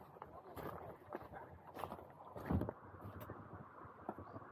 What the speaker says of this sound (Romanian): Dă vâslit, vâslești tu, da.